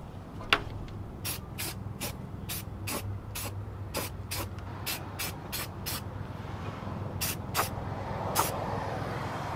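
Short bursts of aerosol rust primer spray on bare and rusty metal of a 1999 Ram 1500 Sport pickup, a dozen or so hissing blasts in an uneven rhythm over a low steady background hum, close and fairly loud, no talk.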